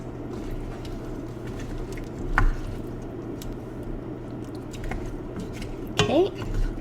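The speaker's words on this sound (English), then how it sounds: "So the bacon, the beef. Give that a mix." Bacon and beef being mixed in a stew pot for Irish beef stew with stout, soft wet squishing with a couple of sharper knocks of a spoon against the pot.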